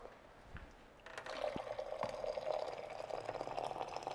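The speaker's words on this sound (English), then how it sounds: "filling from a hot water tower" Hot water from a hot water tower runs steadily into a kettle, starting after a second of quiet and continuing as a close, even splashing pour.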